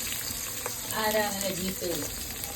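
Chicken curry ingredients sautéing in a hot pan, a steady soft sizzle with stirring scrapes, and a faint voice-like murmur briefly in the middle.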